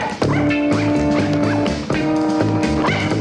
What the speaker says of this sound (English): No, Sally, go after the dog, not the man.